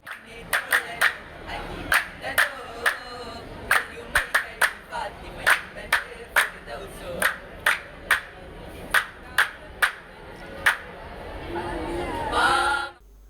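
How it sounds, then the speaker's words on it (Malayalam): An audience at a school arts competition gives rhythmic, sharp bursts of clapping, fairly close and evenly spaced, with crowd noise and cheering swelling at the end. "കൂട്ടുകാർ കൈയടിച്ചും ആരവമുയർത്തിയും പ്രോത്സാഹിപ്പിച്ചു"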